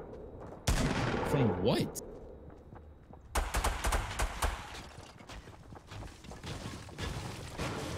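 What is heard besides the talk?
shotgun fire in the video game Fortnite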